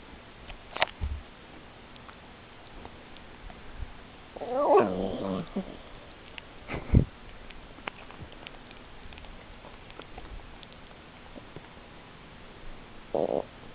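A small dog makes odd snorting, grumbling little noises close up, soft and sporadic with a few brief bursts over a quiet background.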